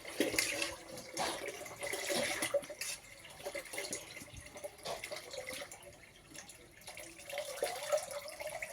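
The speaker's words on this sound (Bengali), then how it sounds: "তারপর চাল ধোয়া জলটা একটা পাত্রে ঢেলে দিচ্ছি।" Rice-washing water poured from a vessel into a pot in a home kitchen, a steady splashing, gurgling stream that runs close and moderately loud through the whole stretch with small surges and drips.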